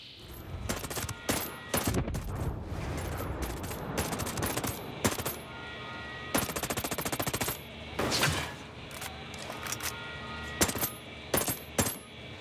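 Gunfire crackles in Ghost Recon Breakpoint, rapid automatic bursts and single sharp shots in irregular clusters, fairly quiet overall, with short pauses between volleys and no talking.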